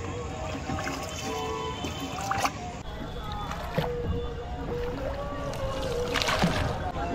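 Boat ride across flooded water, a continuous engine drone with water lapping and wind, voices talking over it nearby.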